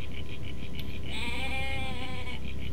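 Goats in Jurassic Park: Operation Genesis let out a wavering, tremulous bleat that rises over a steady, loud hum of game ambience. A faint rhythmic pulsing runs underneath throughout.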